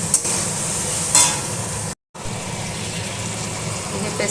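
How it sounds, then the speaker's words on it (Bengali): A spice paste of ginger, garlic, dried chilli, turmeric, Kashmiri chilli and tomato frying in a pan, a loud continuous sizzle and hiss with a brief burst near the middle and a short cut to silence. "এই পেস্টে দিয়ে দেবো।"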